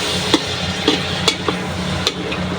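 Miki noodles sautéing in a pan with soy sauce, a steady close sizzle broken by several sharp scrapes and clicks of a utensil stirring against the pan.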